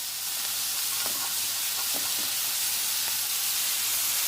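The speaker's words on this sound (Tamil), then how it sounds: "நான் தேங்காவை சின்ன சின்னதாக வெட்டி சேர்த்துருக்கேன். இதையும் நல்லா மிக்ஸ் பண்ணிக்கலாம்." Chopped coconut pieces are stirred into an onion and tomato masala for veg salna, with a few soft scraping strokes of the spoon over a steady sizzling hiss from the pan.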